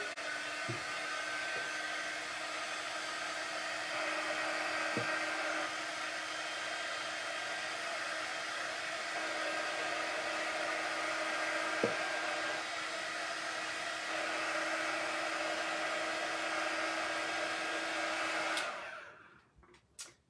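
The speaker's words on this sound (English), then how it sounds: "I'm also going to use my heat gun to dry what I've already done" A heat gun blows steadily for about eighteen seconds, drying chalk paint on a storage or plant container, then cuts off, leaving a few faint knocks.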